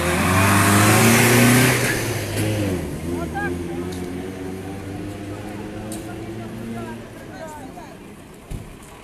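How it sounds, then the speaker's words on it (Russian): A marshrutka minibus drives past a protest on Ushakova Avenue in Kherson, its engine loud and close at first, then fading as it moves away, with street noise and a faint voice underneath. "Маршрутка намагається проїхати."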